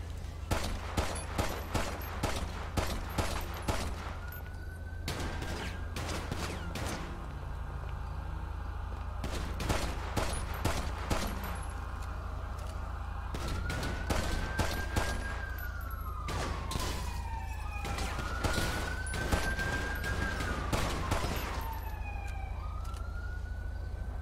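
Gunfire in GTA 5 crackles in repeated bursts and single shots across a robbery scene, loud and close, while a police siren wails and sweeps up and down behind it.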